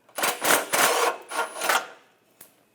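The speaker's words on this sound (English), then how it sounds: "Just going to use a wrench on this, a 13mm wrench, because there's a bolt through here." Ratcheting metallic clicks in several bursts come from a 13mm wrench loosening a bolt on the front flex pipe of a Chevrolet Trax, close up and alone, ending with a brief faint tap.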